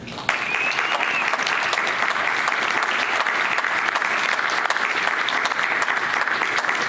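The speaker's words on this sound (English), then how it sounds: "Please put your hands together" An audience at a patient and caregiver conference in Lansing breaks into loud, sustained applause to welcome a speaker, dense clapping with an occasional whoop heard throughout.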